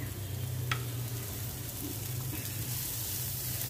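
Shredded cabbage dropped into a hot pan already holding green chili, ginger and garlic, giving a steady, close, even sizzle of frying with a faint clink near the start and no voices.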